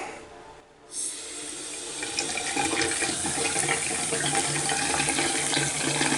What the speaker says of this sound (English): Water is turned back on.